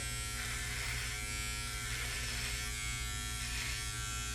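An electric beard trimmer shaping and trimming a beard. It gives a close, steady buzzing hum that keeps going the whole time, with slight swells as it moves over the hair, and no voices.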